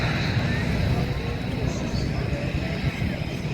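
At the MCAS Cherry Point air show, a small airplane drones steadily in the distance beneath loud outdoor wind and crowd rumble, while someone talks throughout.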